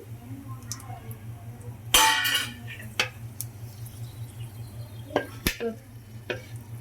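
Cumin seeds, cinnamon pieces and cloves fry in hot oil in a pan with a low steady sizzle, while a sharp clatter of spice dropping in and a few utensil clinks and scrapes come through close by.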